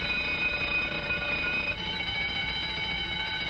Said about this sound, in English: Sounds like every burglar alarm in the whole area is going off at once